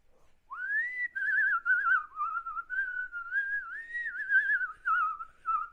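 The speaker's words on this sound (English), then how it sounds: "Or should I say whistle?" A person whistles a tune alone for several seconds, opening with a rising slide and then a wavering, melodic line of connected notes, close and clear.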